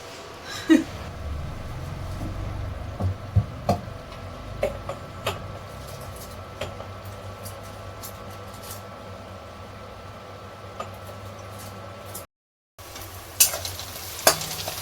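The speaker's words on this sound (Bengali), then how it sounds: "এবার একটু বেরেস্তা ভেজে নিচ্ছি" Onions frying for biryani in a kadai, a steady sizzle throughout with occasional louder stirring clacks and scrapes, close and continuous, broken by a brief silent gap near the end.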